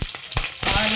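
Green chilies and biryani spices hitting hot oil, a brief sharp burst of frying that swells into a steady sizzle after a few quick knocks.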